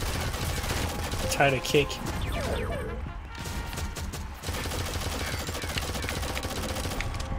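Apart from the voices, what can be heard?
shotgun fire in the video game Shadowgun Legends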